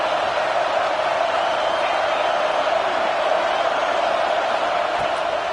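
Large football stadium crowd during a Clemson versus Auburn game, a steady loud roar of cheering on a big third-down defensive play, continuous and dense throughout.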